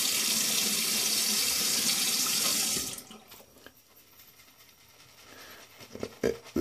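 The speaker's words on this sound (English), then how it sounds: "let's wet my face a little bit first" Water runs steadily from a faucet into a sink as a face is wetted before a straight razor shave. The flow is loud and continuous for about three seconds, then cuts off, leaving quiet handling noises and a few soft knocks.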